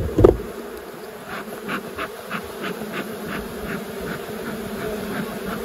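A dense, steady buzz of many honey bees at an open rural hive with worker bees over brood, close by, a continuous droning hum with no pauses.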